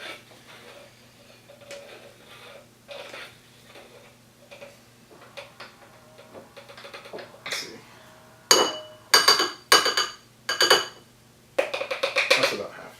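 A utensil stirring cinnamon mug muffin batter in a mug, with soft scrapes first, then a run of sharp, loud clinks against the mug near the end.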